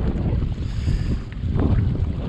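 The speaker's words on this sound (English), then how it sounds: "the wind is really blowing" Strong wind buffets the microphone at a seaside pier with high tide, a continuous low rumbling roar with gusty swells and faint splashy texture, no voices.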